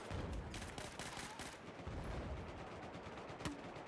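Quick paired bursts of gunfire from a two-round-burst rifle in Battlefield 4 multiplayer, several sharp cracks in rapid succession, fairly faint against a busy battlefield background.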